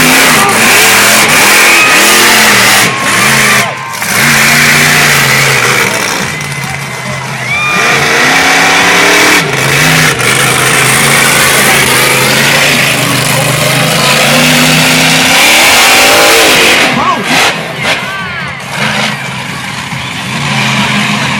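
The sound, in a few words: monster truck lowrider engine revving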